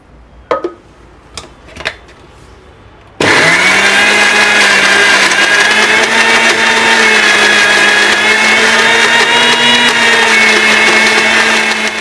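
A mixer grinder blends raw mango red chutney to a paste. After a few faint knocks, the motor starts suddenly into a loud, steady, high whine that runs without a break to the end.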